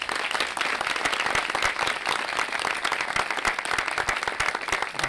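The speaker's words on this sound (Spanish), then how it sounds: "Les voy a pedir un aplauso para recibirlos" Sustained audience applause welcoming guests to a film master class, dense steady clapping from a large crowd for the full span with no talk over it.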